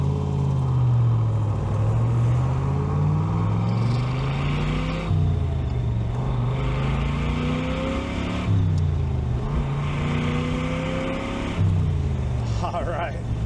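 A classic convertible car's engine rises in pitch through repeated accelerations while driving, steady and close, with gear shifts between climbs; someone speaks over it.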